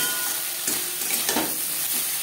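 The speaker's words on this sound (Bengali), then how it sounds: "বেগুনের সাথে মশলা ভালো করে মিক্স করে দেবো।" Eggplant with salt, turmeric and spices being stirred in a hot frying pan for a vegetable and pabda fish curry: scraping, shuffling stirs over a steady close sizzle, with no voices.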